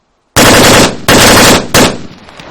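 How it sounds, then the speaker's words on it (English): A heavy machine gun in the Arma 3 IFA3 mod, a World War II-era war game, fires three loud, sustained bursts separated by short pauses, each ending in a brief echoing tail. "you're not realistically going to be shooting real heavy MGs standing"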